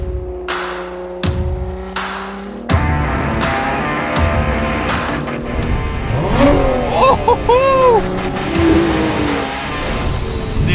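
A 2022 Lotus Emira revs and roars loudly on a track, the engine note climbing through sharp gear-change bursts and rising, swooping pitch sweeps, with sustained high-rpm howling and brief tire noise.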